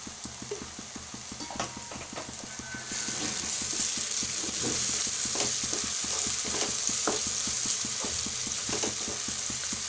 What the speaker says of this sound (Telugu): పసుపు ఒక పచ్చివాసన పోయే వరకు ఫ్రై చేసుకోవాలి.